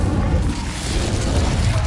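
Incendio fire spell cast in Hogwarts Legacy, a loud, dense, rumbling whoosh of flame that sustains steadily for about two seconds without pause.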